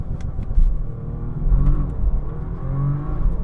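A Bentley Continental GT Speed holds a low, rumbling engine note with rising revving tones during a launch, heard from inside the car, steady and fairly loud with no talking.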